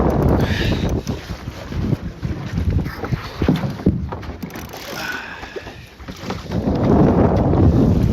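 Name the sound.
sailboat tacking in gusty wind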